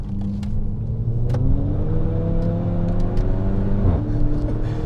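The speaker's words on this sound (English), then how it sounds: "So it's got wheel spin, but the wheel spin's somewhat predictable." A Mk5 VW GTI accelerates hard with wheel spin, its engine droning loudly as the pitch climbs through the revs and then dips at a gear change before pulling again.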